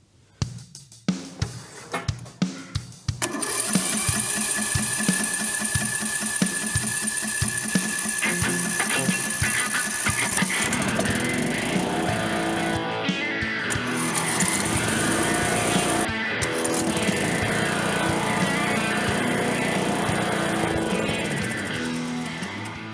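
A racing lawn mower engine jump-started with a dead battery, several sharp cranking bursts followed by the engine catching and running loudly and steadily close by, with a brief dip partway through.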